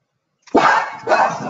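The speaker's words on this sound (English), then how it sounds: "It just never fails that they bark." A dog barks twice in close succession, loud and near, with nothing else around it.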